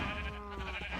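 A single wavering sheep bleat from modded Minecraft, clear and fairly close, lasting about a second.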